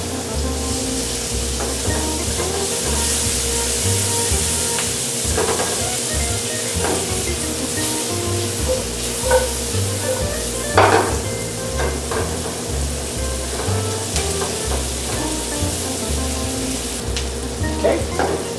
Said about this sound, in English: You're going to saute the onion for about 30 to 40 seconds